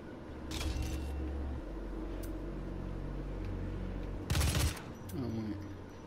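Assault rifle fire in the Doom shooter game, heard as short broadband bursts: one volley early and a louder, denser one near the end, over a steady low game ambience with no talking.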